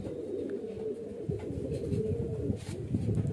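Low, soft cooing from highflyer pigeons murmurs continuously, a throaty rolling sound close by, with faint background noise and no clear talking.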